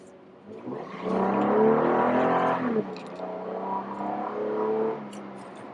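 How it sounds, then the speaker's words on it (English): A 2015 Toyota Tacoma Limited with a V6 engine pulls away from a green light, the engine note rising and swelling in a steady tone before easing back, heard from inside the cab with no talking. "It's a very pretty sounding V6. Again, you put your foot down, it's going to move."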